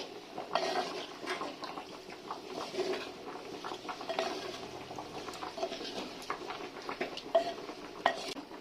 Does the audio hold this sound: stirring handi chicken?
yes